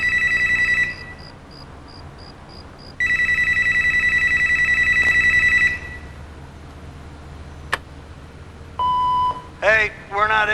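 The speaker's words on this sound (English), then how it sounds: "Wait for the beep, then do what you do." An answering machine gives a couple of long electronic beep tones, each sustained for a few seconds, followed by brief clicks and a short burst of synthetic chirps near the end, loud and close with no talking over them.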